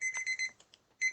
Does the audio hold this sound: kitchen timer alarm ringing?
yes